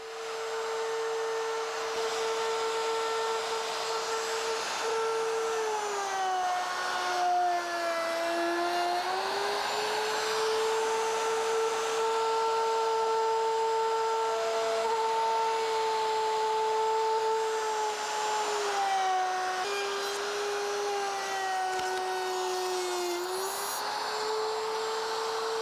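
A wood router cuts along a jig in a continuous loud, high motor whine lasting the whole stretch, its pitch dipping briefly under load during several passes, with no talking.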